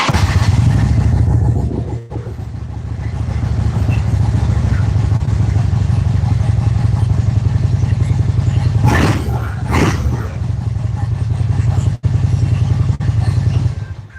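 Fuel-injected Harley Davidson Ultra Classic motorcycle with a stock engine idling loud and close, a deep rumbling lope with a couple of brief revs and short dips.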